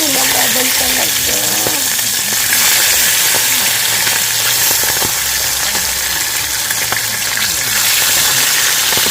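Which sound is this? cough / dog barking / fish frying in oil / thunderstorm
fish frying in oil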